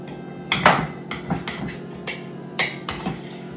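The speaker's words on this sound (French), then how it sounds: "mon lobe, je vais le couper en deux" A knife cuts through a duck foie gras lobe on a board in a kitchen, producing several close, sharp taps and knocks against the surface with brief soft scraping between them.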